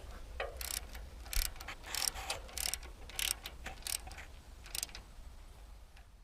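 Ratcheting wrench clicks tightening bottom radiator bolts on a Caterpillar 212 grader, in short irregular bursts of metallic clicks at close range with no talk.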